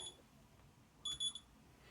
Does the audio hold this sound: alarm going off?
yes